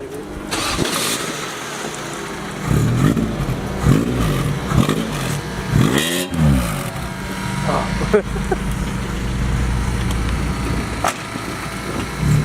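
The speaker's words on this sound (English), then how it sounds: "This fuel pump is louder than its exhaust." A car engine cranks and starts, then idles with a steady whine and hum from a fuel pump louder than the exhaust; people talk over it.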